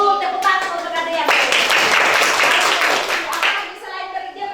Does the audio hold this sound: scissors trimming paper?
no